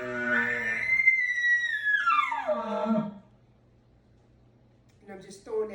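A person imitates a bull elk display bugle by sputtering lips through a tube: a loud rising, wavering squeal that slides down into a low grunt, followed by short sputtering bursts after a pause.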